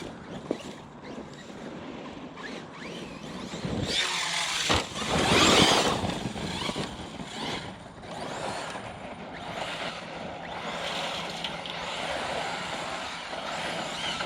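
Arrma Fire-Team RC car bashing over rough, rocky ground, its electric motor whining and surging as the tires crunch and spin, with a loud burst of revving partway through and steady driving noise after.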